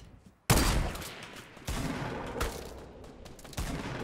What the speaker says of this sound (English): We're getting shot at from behind.